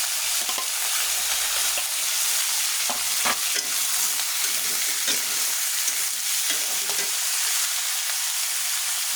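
Chopped ash gourd is stirred into fried onions in a pan, producing a loud, constant sizzle close by with soft scraping strokes of a spoon throughout, and no voices.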